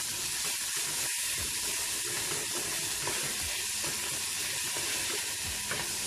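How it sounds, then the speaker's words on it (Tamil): A single small tomato sizzles in a frying pan while being stirred for a Tamil-style plain biryani (kushka), a steady bright crackle with scraping spoon movements throughout, close and constant. "இப்போ வச்சிருக்க தக்காளி ஆட் பண்ணிடலாம்."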